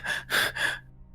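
A voice imitating a woman panting: three loud, breathy gasps in quick succession, close up, then silence.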